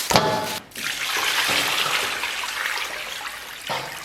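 Pork bone meat being washed under a running tap: a near, steady rush and splash of flowing water with brief breaks and a short sloshing burst at the start.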